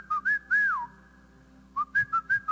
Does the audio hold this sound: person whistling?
yes